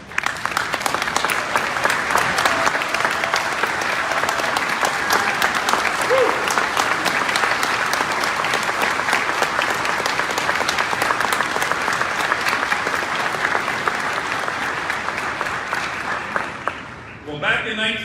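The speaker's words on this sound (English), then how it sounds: "please stand or raise your hand and be recognized with a strong round of applause" A large convention audience honoring Alaska Native veterans breaks into loud, sustained applause, a steady wash of clapping for about seventeen seconds that tapers off at the end.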